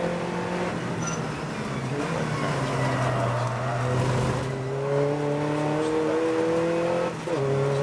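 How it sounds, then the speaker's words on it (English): An Audi race car in a 750 Motor Club endurance race at Snetterton, its engine a loud steady drone that drops and then climbs in pitch as it shifts down a gear, continuous and close. "And in this Audi goes down a gear to second"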